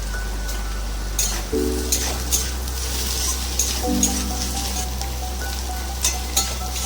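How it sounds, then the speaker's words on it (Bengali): Potato and eggplant chunks frying with chili powder and turmeric, a continuous rain-like sizzle with faint clicks of stirring, close and fairly even, with a low hum underneath. "সেদ্ধ হওয়া পর্যন্ত এটাকে ভেজে নিতে হবে"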